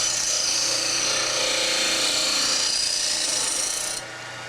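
A woodturning tool is sharpened against a spinning grinder, giving a steady close harsh grinding rasp that runs for several seconds before suddenly dropping away to a quieter motor hum.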